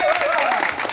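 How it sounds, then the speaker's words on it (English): Audience applause at an album listening and fashion show during Grammy Week, a steady dense wash of clapping over one second with a tonal whistle or voice gliding through it. "So let's give him a round of applause."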